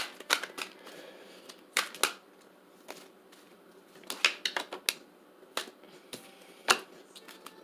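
Angel cards shuffled by hand at close range, giving irregular bursts of crisp clicks and slaps with short quiet gaps and no talking.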